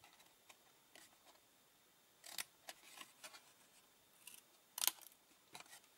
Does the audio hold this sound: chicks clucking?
no